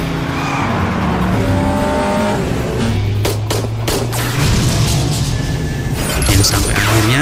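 Cars racing through a film chase scene: loud roaring engines with rising and falling revs, tire squeals and sharp bursts like gunfire layered over a dense, continuous mix, with faint voices here and there.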